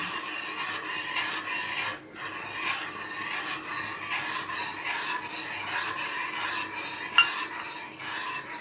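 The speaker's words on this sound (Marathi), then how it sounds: "आणि असं ढवळूया।" Semolina being stirred in a pan while making gulab jamun, a continuous scraping, gritty swish of spoon against pan with a faint sizzle, steady and close, ending with a single sharp clink.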